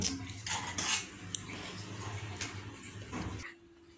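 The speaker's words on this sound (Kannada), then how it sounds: "ಇವಾಗ ಸರ್ವಿ ಬಾಲಿಗೆ ಹಾಕೋಣ" Mango vermicelli kheer is spooned from cookware into a serving bowl, with close metallic clinks and scrapes of a utensil against the pot over a soft, wet kitchen background.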